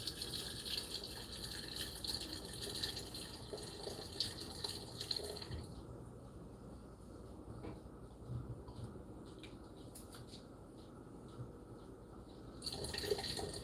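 Herbal hair tea poured through a strainer, a soft continuous trickle of liquid at low volume that thins out midway and then returns, with no talking.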